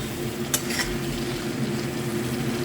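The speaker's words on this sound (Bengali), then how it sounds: "দিয়ে এটাকে এখন বেশ খানিকক্ষণ কষাবো" Egg and potato curry sautéing in a pan makes a soft, steady frying hiss, with a couple of sharp clinks of a spoon against the pan early on and no speech.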